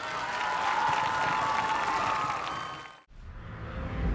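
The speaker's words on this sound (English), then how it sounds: "Now please give all of our senior athletes a round of applause." A crowd at a high school senior walk applauds and cheers for the senior athletes, broad continuous clapping with a brief dip and cut before it swells again.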